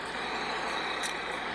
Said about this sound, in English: This is a haul truck.